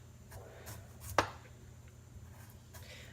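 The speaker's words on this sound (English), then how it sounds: "getting the skin off of the celery root" Sharp knife cutting the skin off a celery root (celeriac), quiet soft scraping strokes with one crisp louder cut in the middle, close up.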